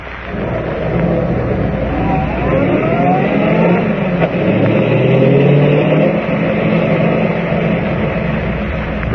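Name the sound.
car driving to an abandoned gold mine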